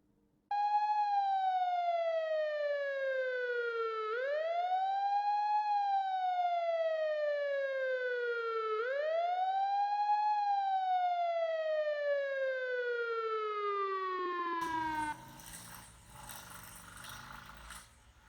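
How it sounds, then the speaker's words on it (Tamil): An ambulance siren wails in long rising and falling sweeps, loud and sustained for about fifteen seconds before giving way to other noise. "அது ஆம்புலன்ஸ்டா."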